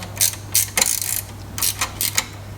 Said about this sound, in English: grab your 10mm ratchet spanner